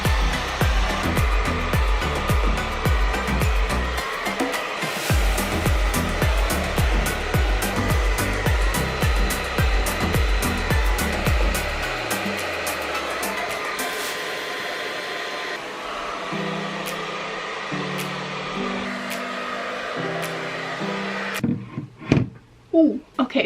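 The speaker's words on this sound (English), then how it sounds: "get my diffuser and diffuse my hair and see what happens" A hair dryer fitted with a diffuser attachment runs steadily while drying hair, a loud continuous blowing whir that holds for most of the stretch before cutting off, followed by a few brief handling noises near the end.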